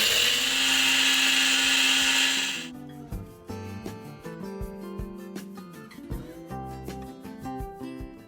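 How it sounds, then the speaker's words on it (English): A blender grinds crunchy dehydrated berries into fine powder with a loud, steady high whir for a few seconds, then shuts off, after which soft background music with plucked, rhythmic notes carries on. "I wait till they're nice and crunchy and then I blend them up."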